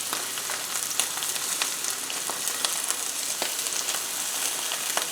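A rib-eye steak sears in a hot pan with a continuous bright sizzle full of sharp popping crackles of spattering fat, close and steady throughout, without any voices.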